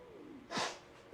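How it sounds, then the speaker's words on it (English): A single wet sniffle, a short nasal snort through the nose, followed by a faint quick sniff. "Got the case of the sniffles."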